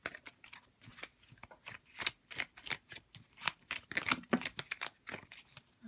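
Deck of tea leaf cards shuffled by hand, a quick run of papery riffles and snaps in close, quiet bursts.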